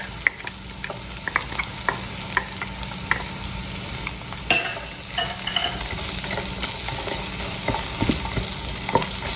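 Peppers, onions and garlic frying in a pan for a pepper steak, a continuous close sizzle with frequent scraping and knocking of a spatula as they are stirred, fairly loud, with no talking.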